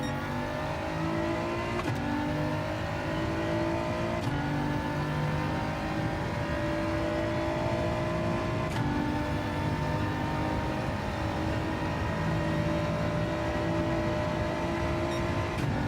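A BMW race car engine in a racing video game drones steadily and loudly throughout, its pitch climbing through each gear and dropping briefly at a few shifts.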